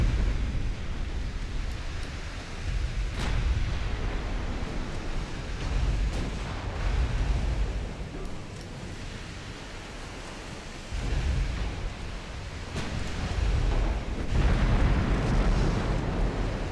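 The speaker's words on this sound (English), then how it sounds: "Still firing away with their 5-inch." Warship 5-inch guns firing in a naval battle game, a series of deep booming shots with rolling rumble between them, heavy and continuous, no talk.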